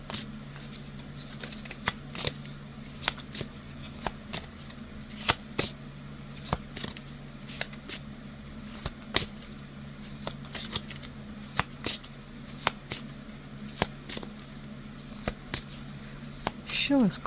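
Tarot cards being shuffled with a steady run of crisp riffling snaps and soft slides, close and clear over a low constant hum, without talk.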